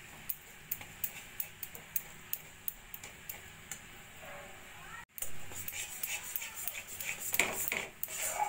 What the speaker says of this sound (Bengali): এবার আস্তে করে নেড়ে দেব আমি।